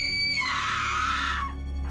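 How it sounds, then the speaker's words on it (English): A man's loud, strained scream after a wreck in a game trailer, one sustained cry of about a second that breaks off abruptly over a low rumbling background. "As soon as I heard the scream"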